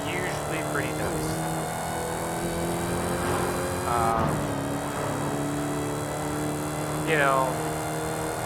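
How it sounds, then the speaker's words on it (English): A supercharged Dodge Challenger Redeye in Forza Horizon 5 drones with a steady engine hum and high supercharger whine, with brief revving rises, while someone talks over it. "It's got a pretty loud supercharger."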